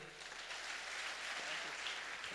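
An indoor audience gives sustained applause at a May devotion gathering. Steady, dense clapping fills the room throughout, at a moderate level and slightly distant.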